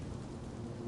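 Stormy weather in the Life Is Strange: Double Exposure video game, with a steady wash of heavy rain and a low thunder rumble filling the whole moment, loud and continuous with no voices.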